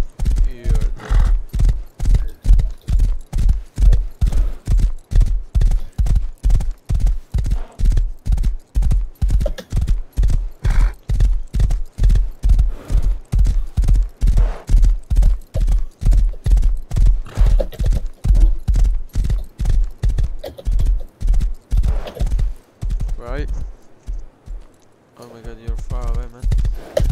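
Horse hooves clop in a fast, steady rhythm throughout a video game, loud and close, with an occasional whinny; the hoofbeats pause briefly near the end.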